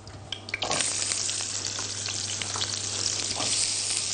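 Chopped red onion hits a quarter cup of hot olive oil in a pan, a sudden burst of sizzling that settles into a steady loud crackle, close up, with a low hum underneath.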